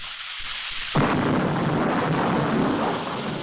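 Heavy rain pours continuously, and a loud thunder crack about a second in deepens it into a sustained, rumbling downpour.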